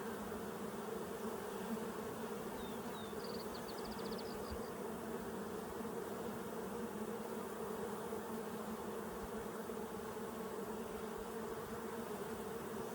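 Honeybees buzzing over a hive frame holding capped worker and drone brood in a Colorado apiary, a steady, dense hum that runs unbroken throughout at moderate distance, with no voices.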